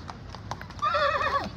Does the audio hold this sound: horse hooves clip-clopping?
yes